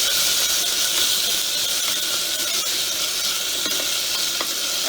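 Tomatoes sizzling in hot oil while stirred in a pan for dal with sponge gourd, a loud steady hiss with scraping stirring strokes and crackles, no talk.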